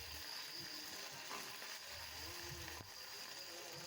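Panch phoron, a bay leaf and ginger-cumin paste fry in hot oil for vegetarian ghugni, a faint, steady hiss and crackle with a few soft knocks, heard close but quiet.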